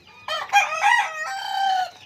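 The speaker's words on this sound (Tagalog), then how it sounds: "Sobrang ingay ng manok dito dahil ang daming mga manok dito ngayon." Chickens and a rooster in a rural Philippine province, loud and close, with overlapping crowing and clucking calls in a steady continuous stretch.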